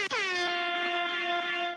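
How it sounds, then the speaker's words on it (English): A single loud, sustained air horn blast lasting nearly two seconds, harsh and steady, with no talking. "Sorry, I did blast those air horns."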